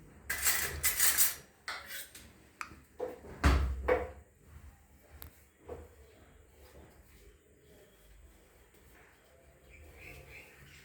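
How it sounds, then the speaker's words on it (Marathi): Papad roasts on a hot tawa while being pressed with a cloth, giving close, crisp bursts of crackling and scraping in the first few seconds. Quieter intermittent crackles and faint background follow. "मी हे ह्याच्यावरती भाजून घेणार आहे पापड"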